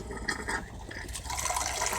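Water pours from a pull-out boat shower hose into a marine toilet bowl, a steady splashing fill that runs alone throughout.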